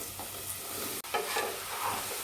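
Chopped bottle gourd pieces being stirred in a pan with onions and turmeric, a steady close sizzle with scraping spoon strokes and one brief pause midway, no voices.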